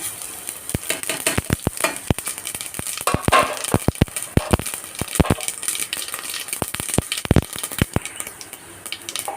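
Fennel and cumin seeds fry in coconut oil in a cooker, popping in sharp, irregular bursts over a low steady sizzle, close and with no voices.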